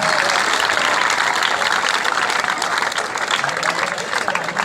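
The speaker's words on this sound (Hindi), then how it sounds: "तालियां हो जाए भाई, तालियां हो जाए" A crowd at a government school cultural fair claps steadily and densely for several seconds, with faint crowd noise mixed into the applause.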